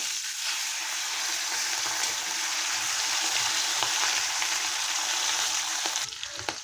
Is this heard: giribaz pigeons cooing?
no